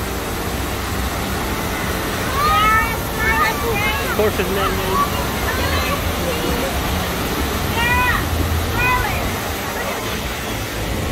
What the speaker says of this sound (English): they got a cool little waterfall over here